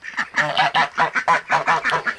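Farm birds in a vegetable garden squawk and honk in a rapid, continuous run of overlapping calls, loud and close, with no talking over them.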